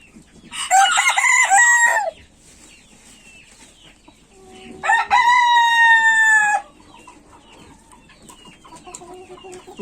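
Roosters crow loudly and close, two long strained calls a few seconds apart, with soft clucking and farmyard murmur in the quiet gaps.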